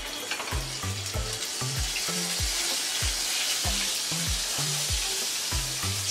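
Garlic paste sizzling hard in oil on a flat tava set over a kadhai, a steady loud hiss with regular low clunks and scrapes of stirring throughout, no voices.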